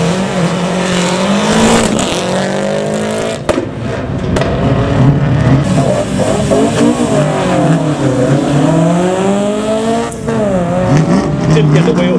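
A 1995 Subaru Impreza rally car accelerates at a supercar show, its engine revving loudly through rising and falling pitch sweeps with sharp bursts. The car passes close, and people talk under the noise.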